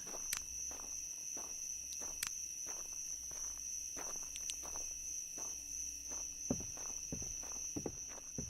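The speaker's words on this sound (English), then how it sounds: "Footsteps can be heard." Irregular footsteps crunch at a moderate distance in the Road to Vostok survival video game, set over a steady high insect and cricket drone, with a few louder steps near the end.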